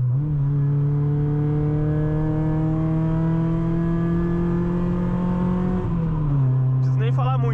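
A Chevrolet Astra 16v drives on the highway, its engine holding a loud, steady droning hum close to the listener, with a brief dip in pitch near the end, like a gear change.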